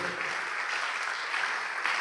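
A church congregation applauds together, a continuous dense wash of clapping that fills the room at steady volume for a couple of seconds, with faint voices mixed in.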